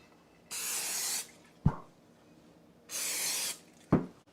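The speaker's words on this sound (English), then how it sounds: "So we're going to lightly spray the pan, basically the bottom." Two short bursts of cooking spray hissing onto the bottom of a pie pan, each followed by a light clunk, close and clear with quiet pauses between.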